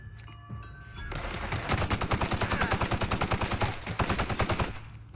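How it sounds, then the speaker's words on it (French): A submachine gun fires in The Outer Worlds, long rapid bursts of evenly spaced shots that are loud and close, starting after a short quiet lead-in with game interface tones. "Et ça, la mitraillette."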